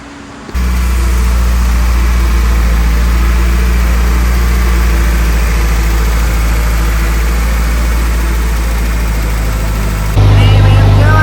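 A Nissan SR20DET engine with a stock bottom end runs on a dyno, its loud steady low drone holding for about ten seconds before rising abruptly in pitch and volume near the end, with little talk.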